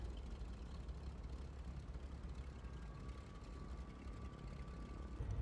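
Twin engines of a Milviz C310R aircraft in Microsoft Flight Simulator, a steady low droning hum with a faint whine, continuous and even throughout.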